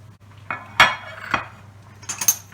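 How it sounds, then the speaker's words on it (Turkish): Chopped vegetables drop into a pan, followed by a few clinks and scrapes of a utensil stirring against metal, close and moderately loud. "Şimdi doğramış olduğum sebzeleri içine ilave ediyorum."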